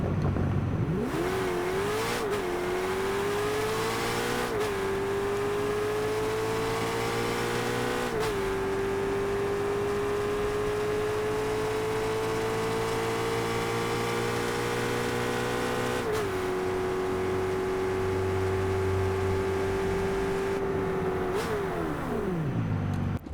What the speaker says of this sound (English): here's the engine for the Corvette ZR1